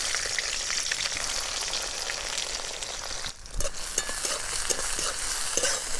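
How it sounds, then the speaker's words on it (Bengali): Chopped onion frying lightly in hot oil with cardamom and a piece of cinnamon, a dense continuous sizzle with crackling pops and stirring scrapes, steady and close, with a brief dip midway. "পেঁয়াজটাকে আমি এইভাবে ভেজে নিয়েছি।"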